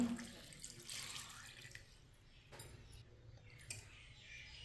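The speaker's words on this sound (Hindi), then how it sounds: "इसमें पानी डाल लेंगे" Water runs steadily and splashes into a metal pot of meat for pilaf, a continuous close pour with faint clinks, no talking.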